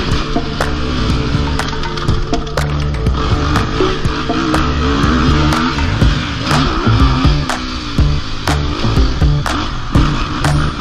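A 2023 Kawasaki KX250 motocross bike runs continuously and loud, its engine rising and falling as it revs on a track, with sharp bursts and no talking over it.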